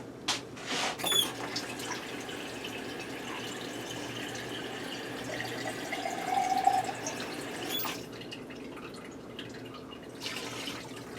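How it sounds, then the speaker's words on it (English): Water runs steadily into a 24-ounce jar in a kitchen, making a continuous faint trickle with a few soft clinks and drips near the beginning and end. "I'm gonna put some water in my jar."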